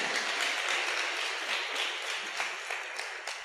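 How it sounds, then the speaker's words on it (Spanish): A church congregation applauds Christ during a Spanish-language sermon, a fairly faint, even wash of clapping that thins slightly toward the end, with a few distinct claps standing out. "Vamos a hacerle un aplauso al Cristo de la gloria"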